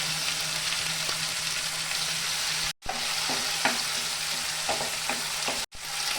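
Cumin, coriander and chilli paste sizzles and crackles steadily in hot oil, close up, with a few soft stirring scrapes and two brief cuts in the sound.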